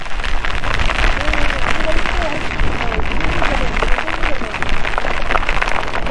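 Heavy rain and strong gusting wind pour down during a motorbike ride, a loud, dense hiss and rumble that stays constant throughout.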